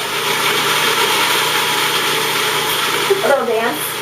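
A kitchen blender runs steadily at high speed blending allergy-friendly pizza ingredients, a loud continuous whir, with a voice briefly talking over it near the end.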